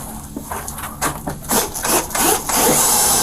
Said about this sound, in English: The deputies continued to attempt their break-in by drilling through the lock